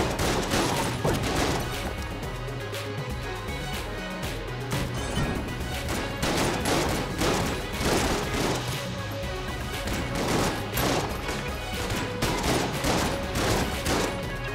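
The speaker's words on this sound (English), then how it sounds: "Takes so many shotguns to kill one guy." Repeated shotgun blasts in the bullet-hell game Enter the Gungeon, with a steady barrage of chunky shots and crashing impacts layered over continuous game music, with no talking.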